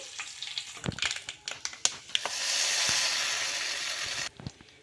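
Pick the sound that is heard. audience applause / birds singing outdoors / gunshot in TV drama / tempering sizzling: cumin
tempering sizzling: cumin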